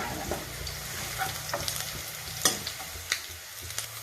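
Onion and garlic fry quietly in a pan, a soft, steady sizzle broken by a few spatula scrapes and taps, close by with no talking.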